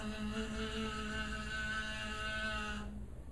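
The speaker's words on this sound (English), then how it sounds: "That's the sound of the kazoo" Steady droning buzz of a vuvuzela-like horn at a World Cup soccer game, a sustained reedy tone holding for nearly three seconds over crowd murmur, then cutting off abruptly.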